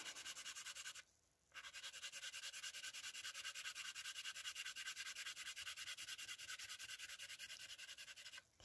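A Carbothello pastel pencil in pink is rubbed over Pastelmat pastel paper, giving a close, continuous rhythmic scratchy scrubbing with one brief pause near the start.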